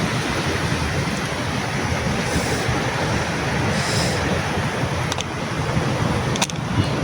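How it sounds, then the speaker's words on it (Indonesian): Big ocean waves roll and crash in a steady, continuous roar close by, with wind buffeting the microphone throughout and no one speaking. "Tuh, ombaknya sangat besar sekali"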